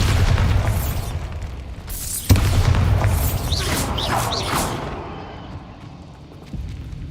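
Bombarda blasting spell in Hogwarts Legacy: a deep explosive boom bursts out loudly, followed by rumbling debris and crackling pops that trail off over several seconds.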